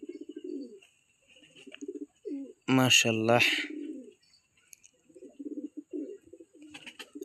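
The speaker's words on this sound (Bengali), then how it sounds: "মাশাআল্লাহ, এটা হচ্ছে 35 ব্লাড লাইনের কবুতর, আর এটা হচ্ছে গ্রিন জেল কবুতর" Pigeons of the 35 blood line and green jel breeds give soft, low, repeated coos nearby, with someone speaking briefly in between.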